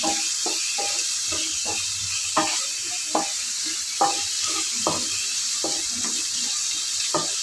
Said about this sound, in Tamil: இது லைட்டாக வதங்கிறதுக்காக ஒரு கை தண்ணி தெளிச்சிருக்கேன்.